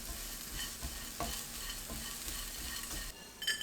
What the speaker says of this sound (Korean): 팬에 식용유 1큰술, 다진 마늘 1큰술, 잡멸치 넣고 중불로 30초 볶아주세요.